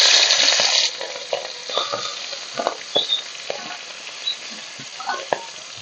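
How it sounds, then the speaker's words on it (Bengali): Fish, rubbed with salt and turmeric, sizzles in mustard oil in a wok, a steady close frying hiss with a louder burst at the start and scattered pops and stirring clatter throughout. "মাছগুলো ভেজে নিচ্ছি।"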